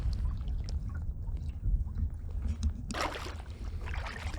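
A canoe is paddled across a lake in gusty wind, with low rumbling wind noise throughout and a sharper splash of paddle water near the end.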